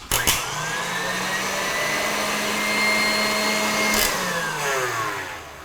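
Electric mixer beating cake batter in a bowl: a steady, loud motor whine holding constant pitch, with brief clicks at the start and around the four-second mark, and no talk.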